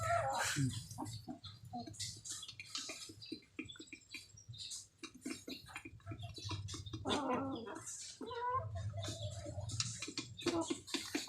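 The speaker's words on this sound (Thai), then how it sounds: "ไก่แก่เปียกพวกไก่แก่นะ" Wet old chickens cluck and call in a rapid, busy series of close, bright clucks and squawks, overlapping continuously over a low background hum.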